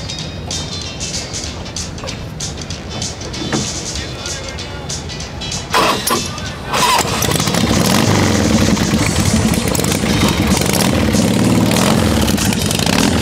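A vintage Works Honda motorcycle engine runs under talk, then swells into a loud, sustained roar that fills the second half.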